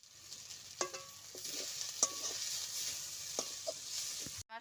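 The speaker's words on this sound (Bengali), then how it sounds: "বন্ধুরা এইভাবে সজনে শাক ভেজে নিতে হয়" Drumstick leaves (sajne shak) fry in a pan with a soft, steady sizzle, punctuated by several sharp clinks and scrapes of a utensil stirring, close and fairly quiet.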